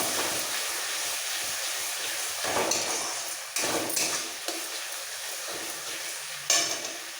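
Tomato, cashew, green chilli and poppy seed masala paste sizzles in a pan for a fish curry, a steady close frying hiss with a few louder bursts as it is stirred, no talking.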